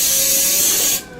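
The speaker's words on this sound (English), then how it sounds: "I'm going to spray the surface of the dough with" Coconut oil cooking spray hisses in one steady burst onto gluten-free cinnamon roll dough, close and fairly loud for about a second before cutting off.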